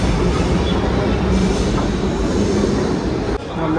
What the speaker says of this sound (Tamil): வந்துட்டு ட்ரெயின் வந்துடுச்சு போல இறங்கினாங்க.